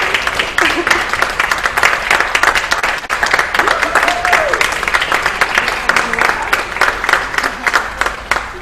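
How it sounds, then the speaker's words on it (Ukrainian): An audience at an art exhibition gives a sustained ovation for Katya, dense clapping continuing steadily from start to finish at a near, fairly loud level. "це все такі овації для Каті"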